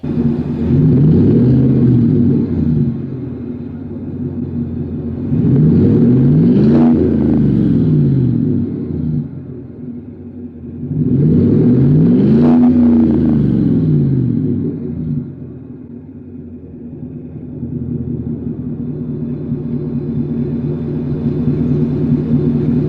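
A Chevrolet Silverado with the 5.3 V8 and a Borla S-Type exhaust revs three times in a garage. Each rise is a deep, loud throttle blip over a steady rumbling idle, and no one speaks.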